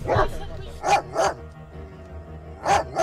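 A police dog gives several loud, close barks in spaced pairs, with quieter gaps between them.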